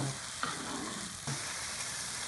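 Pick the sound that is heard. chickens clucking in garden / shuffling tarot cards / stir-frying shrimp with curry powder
stir-frying shrimp with curry powder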